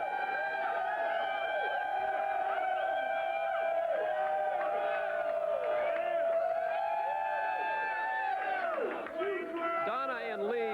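Crowd in a sports pub at Bay Meadows cheering and shouting after a Jaguars touchdown, a loud continuous roar of many voices with someone talking over it throughout.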